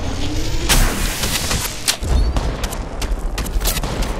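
Apex Legends Mobile gunfire sounds as a dense, loud burst of shots with booming thumps, rapid cracks clustered together and echoing over a rumbling battlefield background.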